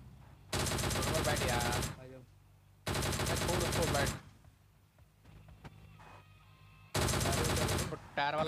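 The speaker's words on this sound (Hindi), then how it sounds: "चल ले फायर भी होने लगे भाग, सामने से फायर हो रहा है" Rapid automatic gunfire rattles in a mobile battle royale game, coming in three loud, dense bursts of one to two seconds each, separated by quieter gaps with faint game noise and some talking.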